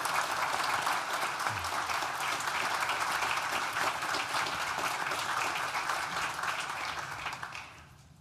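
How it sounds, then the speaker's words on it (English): Steady applause from a large audience at a Nottingham Business School graduation ceremony sounds full and even for several seconds, then tapers off toward the end. "Please join me in thanking them with a well-deserved round of applause."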